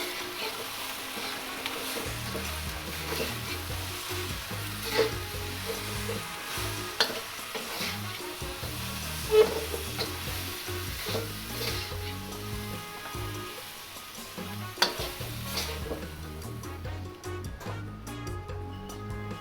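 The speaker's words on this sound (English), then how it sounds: "Toss in the sesame seeds." Sesame seeds are tossed into sesame chicken in a hot pan, with a continuous sizzle and repeated scraping and stirring clatters, close and steady for about twenty seconds, with no talking.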